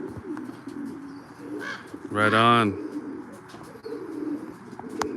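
Racing pigeons at their loft give one loud, close, throaty coo in the middle, with a few softer calls around it and someone speaking briefly beforehand.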